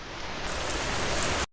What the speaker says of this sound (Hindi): या हो तेज बारिश की बौछार